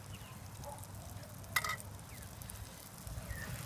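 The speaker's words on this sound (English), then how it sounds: "Put our veggies in to fry up." Vegetables fry in melted butter in a camping pot, giving a quiet, steady sizzle with one sharp clink partway through, close and without talk.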